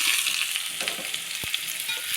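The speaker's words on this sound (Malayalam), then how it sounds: "കടുക് നന്നായിട്ട് പൊട്ടിയതിന് ശേഷം ചെറിയ ഉള്ളി ഇട്ട് കൊടുക്കാം" Small onions sizzle in hot oil in a pan with popped mustard seeds for a ginger curry, giving a steady, hissing fry with a single sharp crackle and no voices.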